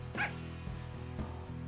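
Dog in the PSP game Silent Hill Origins, a single short yip-like bark at the start over a faint low droning background, followed by quieter soft thumps.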